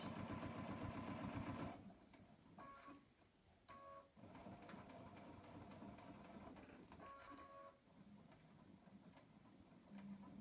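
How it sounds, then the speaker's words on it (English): A sewing machine stitches in the ditch on a double pocket, a fast, even mechanical whir and tick that pauses and restarts several times with brief slower stretches, close and faint, with no voices. "I'm going to sew here."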